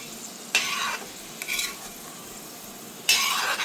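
Raisins frying in hot ghee in a pan, stirred in bursts of sizzling scrape and spatter that swell and fade, with quieter frying between strokes and no talking.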